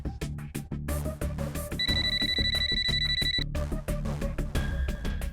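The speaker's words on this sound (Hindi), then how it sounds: "जल्दी जल्दी से फटाफट आप गंगा भाभी को फोन लगाइए" A phone ringtone in a Hindi TV serial trills over busy background music, with a steady electronic tone holding for a couple of seconds in the middle.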